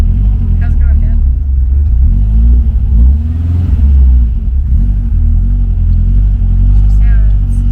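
A 1965 Volkswagen 21-window bus rumbles along with a steady low engine drone and slight rises in revs while driving, as people talk inside over the engine noise.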